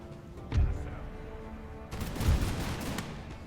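Musket volley fire from Grenadiers in the Imperial Splendour Prussia campaign game, two heavy booming volleys with ragged crackling shots trailing after each, fairly close and loud.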